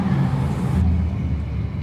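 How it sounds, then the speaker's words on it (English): A noisy truck rumbles past on a road in rural Maryland, a steady, loud low roar that drops off sharply partway through as it moves away. "let's let this noisy truck go by."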